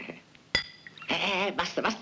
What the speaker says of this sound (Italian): Cin, cin, cin. Attenzione che si rompono i bicchierini.